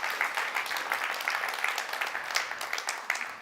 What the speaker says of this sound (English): Can we give one more round of applause, please, for our customer speakers?